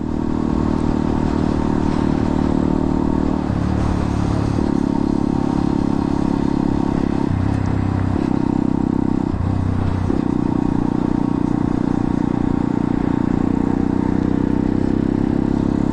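A motorcycle ridden along a chilly road, its engine a steady loud drone with brief dips in pitch as the rider shifts, joined by wind rush and road noise throughout.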